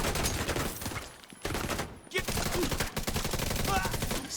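Rapid gunfire from a video game battle, dense bursts and sustained automatic fire filling the clip with only brief gaps, loud and close.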